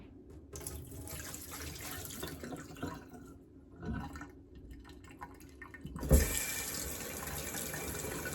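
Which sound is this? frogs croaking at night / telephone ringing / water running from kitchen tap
water running from kitchen tap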